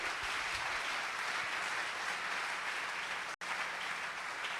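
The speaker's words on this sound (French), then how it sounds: "On acclame très fort le Seigneur" A church congregation applauds in a steady, dense roar of clapping that holds evenly throughout, with one very brief dropout near the end.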